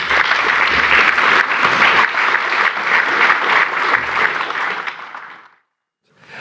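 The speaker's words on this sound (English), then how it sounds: "So please give a round of applause." Conference audience applauding a fireside chat at CRESTCon Europe 2024, dense steady clapping from a large crowd for about five seconds before it fades out into silence.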